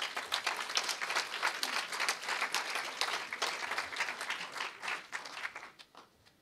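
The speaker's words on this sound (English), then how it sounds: "So let's give them a round of applause." An audience at a 2011 health awards ceremony applauds warmly: a dense, lively wash of many hands clapping that holds steady for several seconds, then thins and fades away at the end.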